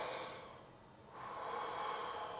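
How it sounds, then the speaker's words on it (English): A person draws a slow, deep breath, faint and close, with a soft airy inhale swelling in the second half after a brief quieter pause. "just stop and take a breath"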